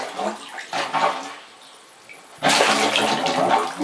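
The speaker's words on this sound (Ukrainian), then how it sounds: "вода піде зараз." Water surges into a garden drip-irrigation pipe, starting with a sudden, steady rushing gush after a stretch of quieter sound and some voices.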